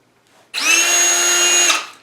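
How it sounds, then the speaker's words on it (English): A power drill whirs at steady high pitch for about a second, starting abruptly and winding down, close and loud with no talking. "Drill our holes."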